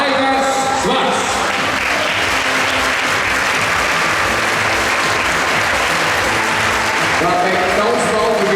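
A large audience at the evening opening ceremony of the Baltic Grand Prix 2015 breaks into loud, sustained applause that stays dense and steady throughout, with sound from the stage audible at the start and end.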